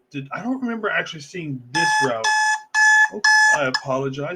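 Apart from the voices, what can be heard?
alarm clock going off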